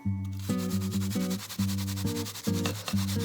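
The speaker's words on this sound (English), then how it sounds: "That starts off with a little Asian pear. Just take your grater." A fresh Asian pear is rubbed against a hand grater in a home kitchen, giving quick rhythmic scraping strokes, fairly close and steady, partly masked by a tonal background of music.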